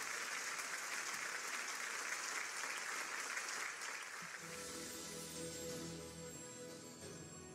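A crowd at a rally warmly applauds the arriving Grand Imam with loud, dense clapping that thins after a few seconds as sustained tonal music comes in underneath.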